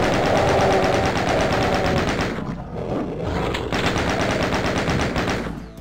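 Heavy, rapid automatic gunfire from the video game Doom hammers away loudly and continuously, a dense rattle of shots with a brief lull midway before the barrage resumes.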